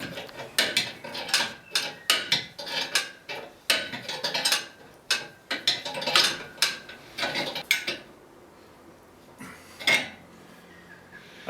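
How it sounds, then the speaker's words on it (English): U-bolts being tightened with a wrench on a boat catch mounting arm fitted to a winch post, giving a close run of rhythmic metallic ratchet clicks and clanks that stops, followed by a few isolated knocks. "U-bolts are now tightened, now the mounting arm is fitted."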